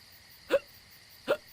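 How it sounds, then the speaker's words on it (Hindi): A man hiccups twice, about three quarters of a second apart, each a short sharp voiced gulp, close and clear over a faint steady background hum. "इस अचानक हिचकी क्यों शुरू हो गई?"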